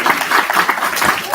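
An audience at a community forum on youth and family homelessness claps in a short burst of applause, many hands together, close and lively.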